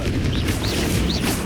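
A Confringo explosive spell in Hogwarts Legacy bursts with a dense booming rumble, followed by chirping whooshes over a steady loud wash of game combat noise in a brief moment.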